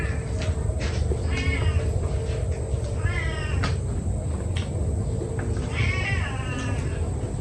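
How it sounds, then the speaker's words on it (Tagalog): A cat meows repeatedly at close range, with rising drawn-out cries over a steady background hum, during an indoor lunch of lechon kawali. "Uy, yung pusa mo na ito."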